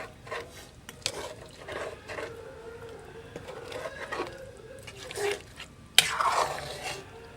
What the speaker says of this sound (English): the soup is almost cooked. So we're going to stir.